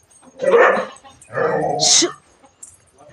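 A dog barks and yips twice in quick bursts, fairly close, followed by a faint whine.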